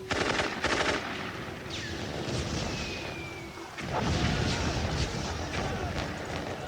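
Machine-gun fire in the style of the First World War: loud rapid bursts of automatic shots with booming impacts and a whistling shell, over a dense battle din.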